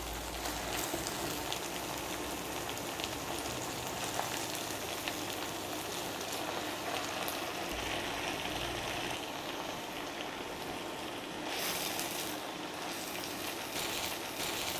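Hilsa fish pieces fry in a mustard-oil masala, making a long, steady crackling sizzle with soft, rain-like patter throughout, moderately quiet and without speech.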